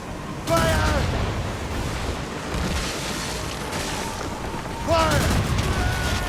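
Two booming ship cannon blasts in Assassin's Creed Rogue a few seconds apart, each with a shouted voice over it, against steady rushing background noise.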